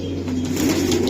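Racing pigeons at a large loft coo in low, steady, throaty murmurs close by, with a soft rustle in the background and no talk.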